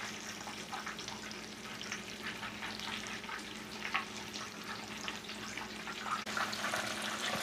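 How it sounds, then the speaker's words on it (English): Oil crackles and sizzles steadily as broccoli cheese balls deep-fry, with scattered pops and a faint clink near the end, no talking. "so we're frying it until it's golden brown all the way around"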